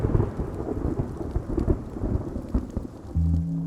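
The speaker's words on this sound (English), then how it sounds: "There's simply far too much rain." Heavy rain pours in a Philippine jungle during a thunderstorm, with dense drumming drops and deep rolling thunder rising loud near the end.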